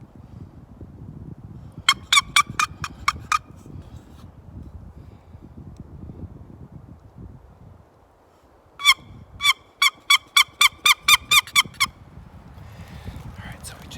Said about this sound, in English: so we just got a gobbler to gobble